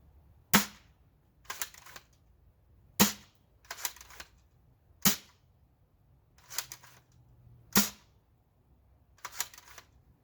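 Ceda Model S dart blaster firing outdoors, eight sharp snapping shots spaced roughly a second apart, with quiet pauses between them and no talk.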